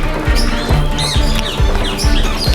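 Many birds chirp and tweet in a busy, overlapping chorus, with repeated thumping low knocks underneath and no voices.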